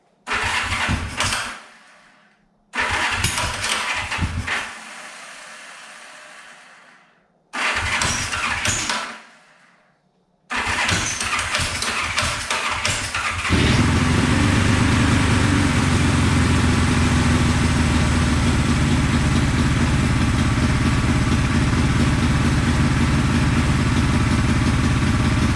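A 1974 Honda CB450 motorcycle cranks in several loud bursts that catch and die, then fires up and keeps running at a steady, throttled idle close by.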